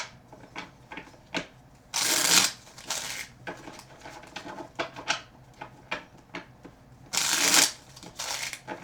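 Tarot cards shuffled in quick riffling bursts, two louder flurries of fluttering snaps separated by softer handling clicks, close and clear with no talking.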